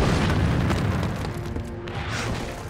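Soviet artillery barrage pounding a World War II front line, a continuous heavy rumble of overlapping booms and blasts, loud and dense with no clear gaps between impacts.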